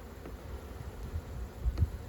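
Honey bees buzz faintly at an open hive during an inspection, a soft, continuous hum with a few brief bumps and handling knocks close by.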